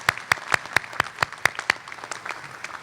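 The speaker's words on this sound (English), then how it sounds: "Let's give them a round of applause for helping out." Audience at a 2013 health management school graduation ceremony claps for families, a burst of sharp, separate claps with gaps between them, moderately close, fading into lighter scattered clapping.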